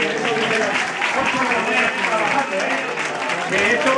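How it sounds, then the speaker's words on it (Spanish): Applause for student volunteers from a Danesa school during a Scratch Day event, a dense, steady patter of many hands clapping at moderate volume across the whole stretch, with voices mixed underneath. "Queremos dar un aplauso a los chavales."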